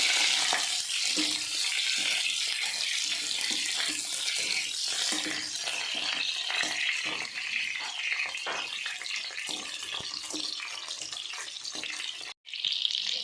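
Onions shallow frying in oil in a kadai sizzle with a dense, steady hiss and crackle, close and continuous, with faint stirring clinks scattered through and a brief dropout near the end.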